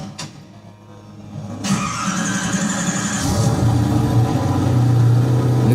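A Koenigsegg One:1 carbon supercar starts up: a sharp crank burst, then the engine catches and settles into a rising, loud idle drone that builds steadily.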